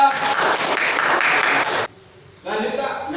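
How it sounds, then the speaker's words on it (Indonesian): A classroom of students claps for a classmate in a dense, loud burst of applause that stops abruptly, followed by a brief quiet pause and then a voice speaking. "Beri tepuk tangan untuk Najwa."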